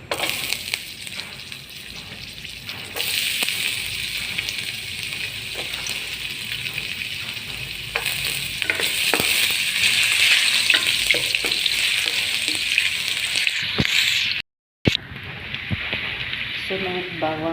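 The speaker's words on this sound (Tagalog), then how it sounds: "Meron ng mantika. Gigisa natin yung unahin natin yung luya." Ginger sautéing in hot oil as the base for native chicken adobo, a steady broadband sizzle with occasional stirring clicks, loud and continuous with a brief break near the end.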